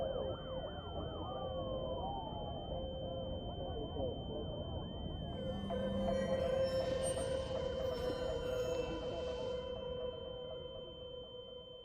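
A high, steady ear-ringing tone after an explosion in the video game Dreamfall Chapters, holding a constant pitch over muffled, warbling game sounds throughout, with no speech.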